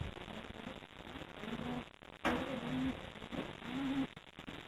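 Pigeons in a loft fitted with box perches give soft, low cooing calls in short bursts over a constant rustling background, fairly close and quiet.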